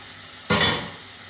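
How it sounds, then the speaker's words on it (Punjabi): Tomatoes dropped into a pan of frying onions set over a low flame, giving one sudden loud sizzle that fades over about half a second against a quiet background. "ਟਮਾਟਰ ਆਪਾਂ ਲੋ ਫਲੇਮ ਤੇ ਭੁੰਨਾਂਗੇ"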